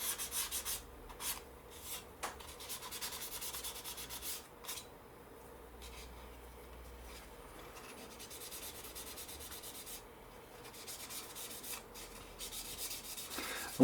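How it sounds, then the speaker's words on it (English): A sanding sponge rubs over primer on an Airfix 1/48 Supermarine Spitfire Mk.XVIII model, making soft, close, repeated scratchy strokes in an uneven rhythm, with no talking. "I've given it a rub down with the sanding sponge"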